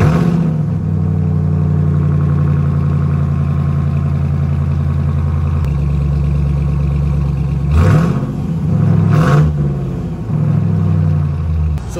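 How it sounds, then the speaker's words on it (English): A Ram TRX pickup's engine idles with a deep, steady rumble up close, then gives two short, loud revs near the end before settling back to a burbling idle. "So it's not exactly a cold start, but it still sounds nice."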